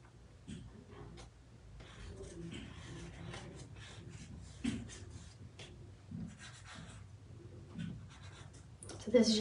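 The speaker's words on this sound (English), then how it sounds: "So this is just a pastel pencil." A pastel pencil scratches across paper in a sketchbook, giving soft, intermittent strokes. A person talks quietly throughout.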